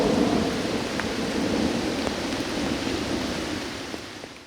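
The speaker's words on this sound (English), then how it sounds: "the torrential rainfall caused roads to flood as this storm pushed through" Thunderstorm with torrential rain pouring down and a deep rumble of thunder, dense and loud from start to finish with no voices.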